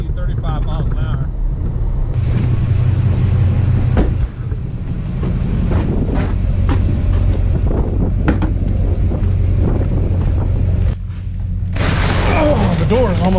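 Strong gusting wind of about 30 to 35 miles an hour during freezing rain in bumper-to-bumper traffic, a loud continuous low roar and rumble battering the microphone throughout, with a voice talking over it.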